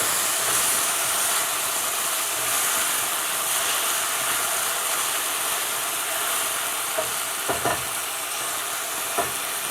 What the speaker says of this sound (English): As you can see, it steams right up.